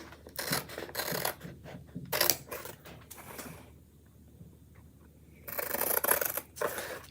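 Scissors snipping along the cut lines of a Chalk Couture stencil, bursts of close crisp cutting and rasping strokes separated by a quieter pause, no talking.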